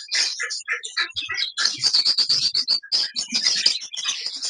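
A dense chorus of Australian parrots and lovebirds at a bird market in North Karachi, with continuous high chirps and tweets from many birds close by.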